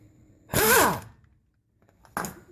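An impact wrench fitted with a 15 mm impact socket works on a car's four hub bolts, giving two separate bursts of rattling hammering, the first longer and louder and the second short, with quiet between.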